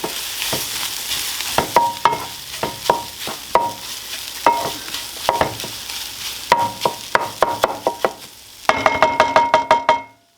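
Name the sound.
stirring eggs, beans and potatoes frying in a pan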